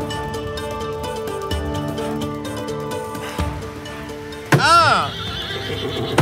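A horse lets out one loud, close whinny, rising and falling over about half a second, above background music and people talking.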